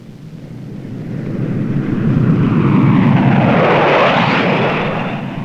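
A USAF Thunderbirds F-100 Super Sabre jet roars over the field in a low pass, a loud broad rushing roar that swells and peaks midway, with a falling Doppler sweep as it passes, then starts to fade.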